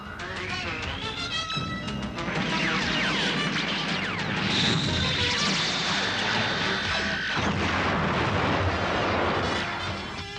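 Continuous heavy fire from 155 and 305 cannons with explosions, booming and crashing densely over one another with whistling, screeching tones, loud throughout.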